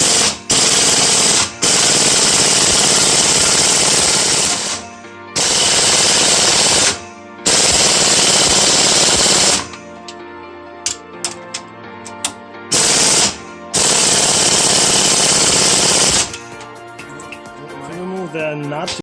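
Pneumatic impact wrench hammering loose the nut on a Volvo XC70 strut during an upper bearing change, loud close rattling bursts of a few seconds each, repeated several times with short pauses and quieter clinks between.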